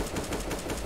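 Controlled rifle tap-firing in CS:GO, a quick even string of close, sharp shots in under a second.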